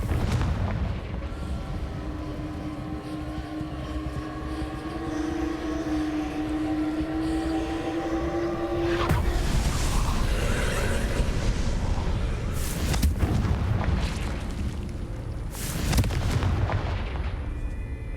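Explosive blasts of the Confringo fire spell in Hogwarts Legacy, with a sustained rumbling bed and several sharp bursts in the second half, loud and close with no talking.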